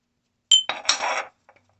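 A few quick, bright clinks of a metal spoon against ceramic holding leftover incense bits, a short cluster followed by a faint tap, in an otherwise quiet room.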